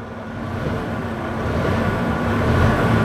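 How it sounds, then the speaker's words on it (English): A Scania L360 skip truck with an easy access cab revs its engine, a deep, loud diesel rumble that swells gradually and holds steady from inside the cab. "I'll just give it a couple of revs here."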